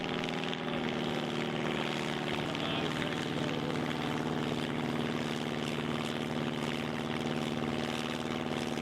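An autogyro in flight, its propeller engine giving a steady, droning hum that stays constant throughout, heard from a moderate distance.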